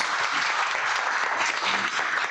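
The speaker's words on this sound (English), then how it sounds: "Let's have a round of applause for these two speakers." Symposium audience applauding two climate-change speakers, a steady dense wash of clapping throughout, fairly close and even in loudness with no talk over it.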